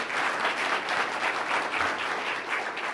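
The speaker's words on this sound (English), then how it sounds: "let's give Greg another round of applause for a great talk" An audience claps after a lecture on cider and organic apple production, dense steady applause filling the room evenly for the whole stretch, no voices standing out.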